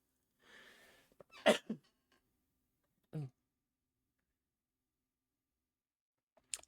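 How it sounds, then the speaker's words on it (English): A short, sharp little sneeze stands out in near silence, preceded by a soft breathy intake and followed by a few faint scattered sounds. "Little sneeze there."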